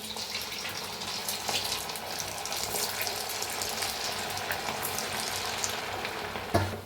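Sabudana vada deep-fry in a pan of hot oil, giving a steady, even bubbling hiss that carries on without pause and with no voices.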